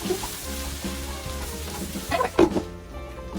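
Beef fajitas sizzle in a hot pan while being stirred, a steady frying hiss with a few scraping clatters of the utensil near the end, close and without talk.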